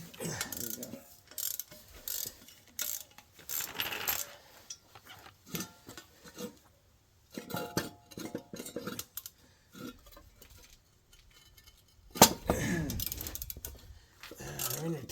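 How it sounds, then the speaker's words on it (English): Ratchet clicks and metal clanks come in uneven bursts as tight, decades-old bolts are worked out of a Dodge Dakota front axle, with pauses and a sharp knock between runs and people talking at times. "So let's go ahead and pull these bolts out."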